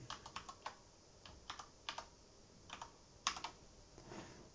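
Keys clatter on a computer keyboard as an account code is typed into a Bitcoin Swiss web page, arriving in quick, uneven bursts of close, crisp taps with short pauses between them and no voices.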